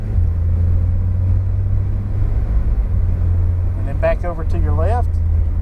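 A Porsche engine drones steadily as the car accelerates around a curve on a track, a loud, constant low rumble throughout, with a man giving driving directions over it near the end.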